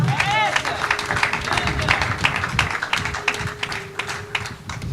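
A church congregation applauding and cheering for God during a sermon, dense rapid clapping with crowd noise and a shout or two, loud and close, lasting throughout with no clear speech.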